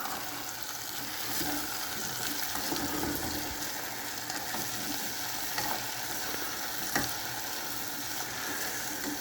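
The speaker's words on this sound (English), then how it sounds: "So we're going to add the parsley flakes to it. And stir." Potatoes and onions frying in a pot for potato soup, with parsley flakes stirred in; a soft, constant sizzle with occasional spoon scrapes, fairly quiet and close, no talking.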